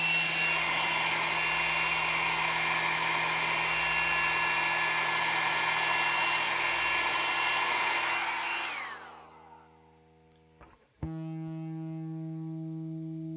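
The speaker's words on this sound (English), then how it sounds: "4 or 5 seconds with a hairdryer on there" A hair dryer blows with a loud, steady whoosh on a guitar string, warming it so the pitch drops, then winds down and cuts off, followed by the plucked guitar string ringing out.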